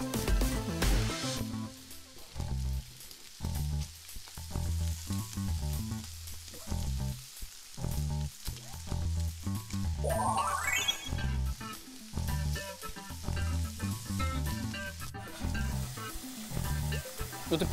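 Mala xiang guo being stir-fried in a pan for a children's mala dish, a loud continuous sizzle and frying hiss with stirring scrapes and a brief rising squeal midway, close and alone without talk.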